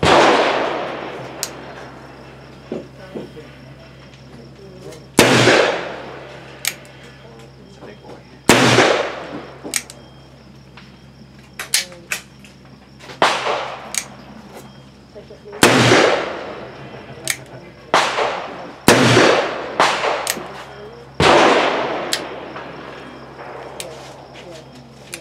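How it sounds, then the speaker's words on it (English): Repeated loud gunshots from a Walker 1847 black-powder revolver, about seven sharp cracks spaced several seconds apart, each with a ringing decay, and faint handling noises and brief talk in between. "So today we're going to try a Walker. I haven't shot this in a long time"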